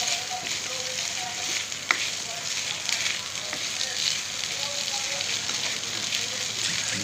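Kikiam sizzles and crackles loudly in a frying pan while it is stirred, producing a steady hiss with the odd sharp tap of the utensil against the pan.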